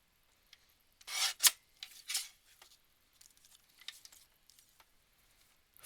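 Paper for a Christmas mini album being cut, with a couple of bright close rasping slices followed by quieter scattered scraping and rustling, and long near-silent pauses in between.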